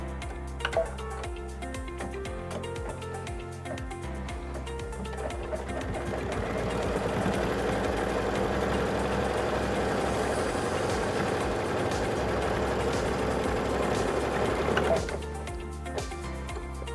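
A sewing machine stitching a mug rug, its needle ticking in a fast, even rhythm that speeds into a steady run for several seconds before slowing and stopping, close and clear with no talk.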